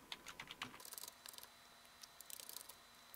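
Someone types a user name on a computer keyboard while creating an account on Fedora Linux 38, producing quiet, quick bursts of light clicking keystrokes with short pauses between runs.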